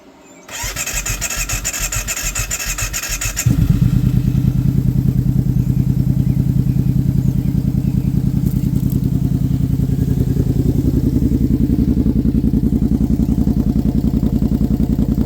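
A Brute RC vehicle's nitro engine running on Klotz nitro fuel is started, coughs to life with a brief rattle, then settles into a loud, steady, buzzing run close by, without any speech.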